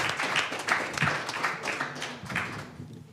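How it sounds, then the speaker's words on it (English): Applause for panelists at the close of a talk on religion, spirituality and climate: a modest round of clapping from a small audience with soft, uneven bursts, fairly close and steady across the moment. "would also like to offer a round of applause for our panelists this afternoon"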